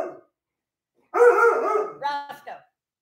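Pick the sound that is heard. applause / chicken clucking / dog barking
dog barking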